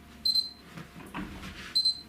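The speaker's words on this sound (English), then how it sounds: "What is that beeping over there? Is it the alarm clock that's going off just now for no reason?" Two sets of quick, high electronic double beeps from an alarm clock, near and clear, separated by a quiet stretch with faint shuffling.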